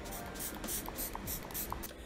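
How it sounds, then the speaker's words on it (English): MAC Fix Plus setting spray is misted onto a face in several quick, soft bursts, close and fairly quiet, with no talking. "spray a little bit of the MAC Fix Plus on my face"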